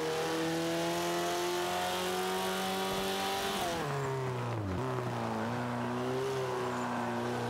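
A Mitsubishi Evo 8 with all-wheel drive accelerates hard in a Forza 5 multiplayer race, its engine note climbing through the revs, dropping at a gear shift, then rising again, close and loud throughout with no speech.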